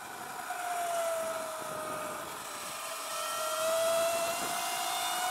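A Sur Ron Light Bee electric dirt bike fitted with a 420 chain kit accelerates, giving a steady high whine with a rising pitch under constant wind and road noise, growing louder toward the end.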